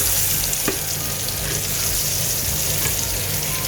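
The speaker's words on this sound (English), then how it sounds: "I'll fry the potatoes until it gets a nice" Potatoes frying in oil for a Kolkata mutton biryani, a loud, steady, close crackling sizzle with occasional light stirring ticks and no talking.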